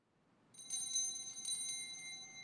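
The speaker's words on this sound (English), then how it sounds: "It is also customary for the server to ring a bell as they enter to alert the people that Mass is beginning." A server's hand bell rung on entering a chapel before a Latin Mass, a bright cluster of metallic rings that starts after a short silence and keeps jingling near and clear.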